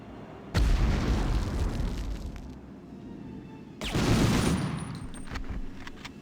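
Two heavy explosion blasts from a grenade in the PS1 game Medal of Honor, the first loud and sustained with rumbling debris, a second burst following about three seconds later, with scattered crackling around them.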